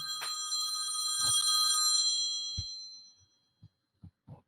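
An old telephone bell rings in one bright metallic burst lasting about two seconds, then fades out, followed by a few soft knocks, close and loud.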